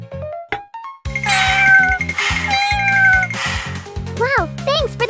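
Two kittens meow repeatedly in high, rising and falling cries, close and loud, over a background of bright tonal music with a steady beat.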